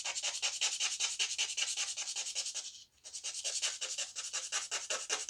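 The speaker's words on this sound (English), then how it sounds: "So this is 400 and this is 2000 grit sandpaper. I'm just going to take this and just rub this edge." Sandpaper of 400 and 2000 grit rubbing along the edge of a nitro-finished Fender guitar body, a steady, rhythmic back-and-forth rasp up close, with one brief pause midway.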